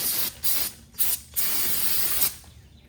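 Cleaner is sprayed onto front brake parts of a 2005 Chevrolet Cobalt during a pad and rotor job: four close, hissing aerosol bursts, the last one longest, with no talking.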